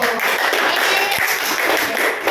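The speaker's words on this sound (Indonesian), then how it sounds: "Tepuk tangan buat kelompok 1." A class of fourth-grade pupils applauds a group after its presentation in a religious studies lesson, a dense, steady wash of many hands clapping together for a couple of seconds.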